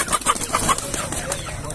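Chickens cluck at a poultry market in Palmeira dos Índios, Alagoas, a close, busy run of short repeated clucks over steady crowd noise.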